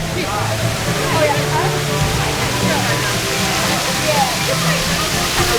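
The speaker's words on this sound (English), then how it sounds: "It's this waterfall we're gonna set." Water crashes and sloshes around a log flume boat at the waterfall splash on Splash Mountain at Magic Kingdom, a steady loud roar of spray filling the whole stretch while riders talk and exclaim over it.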